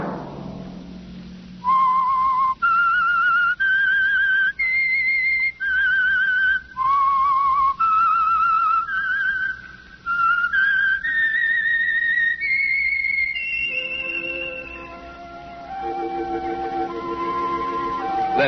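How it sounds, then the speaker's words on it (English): The whistled theme signal of The Whistler old-time radio program, a clear solo melody of sustained, sliding notes rising step by step, then a lower closing phrase, heard alone. "Let that whistle be your signal for the Signal Oil program, The Whistler."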